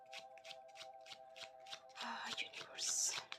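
A deck of tarot cards is shuffled close up, with a quick run of soft rhythmic riffles giving way to a louder, brighter flurry of card slaps and sliding at the end.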